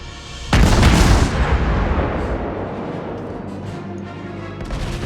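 A heavy boom from naval guns in World of Warships, a loud blast that rolls into a long fading rumble, with a second softer thud near the end.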